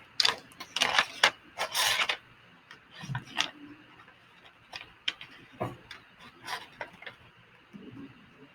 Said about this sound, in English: I'm just going to take my glue stick all the way around the edges, about halfway, until every side of my box has glue.